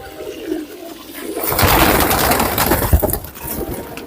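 Dark-tailed kaldum flying pigeons give faint coos before a loud, rushing burst of noise swells up and lingers close by.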